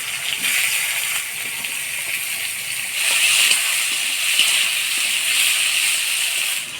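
Potatoes sizzling in hot oil with black cumin seeds and chopped onion, cooked in a home kitchen for a Bengali meal; a steady hiss runs throughout and grows a little louder partway through, with no voices.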